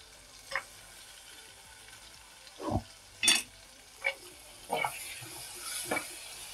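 Tomatoes and onions sauté in hot oil with a soft, faint sizzle, broken by several short scraping stirs of a spoon against the pan.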